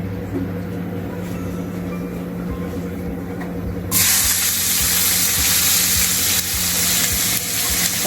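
Chopped onion and tomato dropped into hot oil for mutton keema, with a sudden loud hiss that jumps up partway through and then holds as a steady bright sizzle, with a low background hum and no talk.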